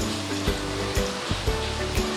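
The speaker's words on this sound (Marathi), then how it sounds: "बाकीचे तुकडे पण अशाच प्रकारे तळून घ्यायचे आहेत।" Pieces of bati, a Rajasthani wheat dough ball, deep-frying in hot oil until golden brown, a steady close sizzling hiss with faint periodic pops and bubbling throughout, no voices.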